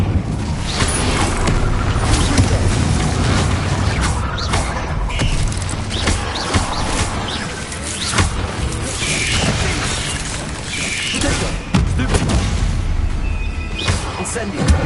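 Repeated Incendio fire spells in Hogwarts Legacy, with bursts, booms and crackling blasts one after another amid dense battle noise, a voice calling spells over the top.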